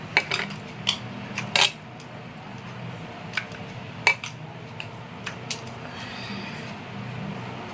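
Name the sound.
mixing soaked sago (sabu) in a bowl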